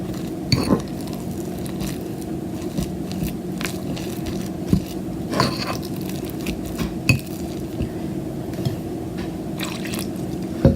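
A thick henna paste of mashed-potato-like consistency being stirred and mixed by hand, giving steady soft squishing and wet patter with occasional clicks of a utensil against the bowl.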